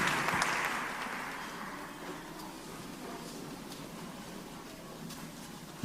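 A church congregation applauds and acclaims the Lord during a worship service, steady broadband clapping that starts loud and settles into a sustained, even roar of hands for several seconds.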